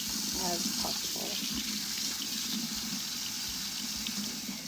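Tap water runs steadily in a kitchen sink while sliced potatoes are rinsed to wash off their starch, a soft continuous gush under a person talking.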